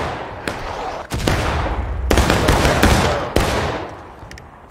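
Gunfire in the Civil War game War of Rights: scattered musket shots crack near and far, several sharp loud reports with decaying echoes between them, over a background of battlefield ambience and no speech.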